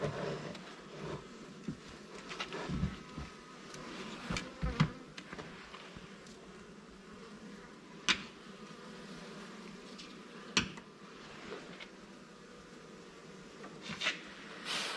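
A crowd of honey bees buzzes steadily around an open hive, a continuous close drone with occasional louder passes and thumps from handling the equipment.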